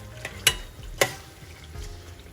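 Seafood boil sauce with Bloves seasoning and brown sugar is stirred in a pot on low heat: a quiet simmering sizzle broken by two sharp spoon clinks against the pot, no talking.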